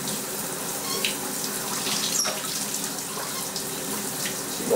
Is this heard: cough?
no